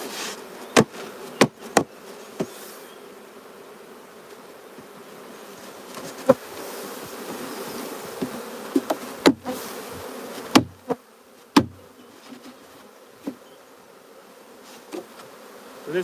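Honeybees buzz steadily around a nuc colony during a transfer, a close, continuous hum broken by frequent sharp knocks and taps of hive equipment.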